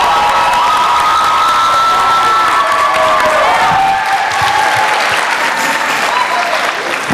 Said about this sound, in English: How about a round of applause for the choirs?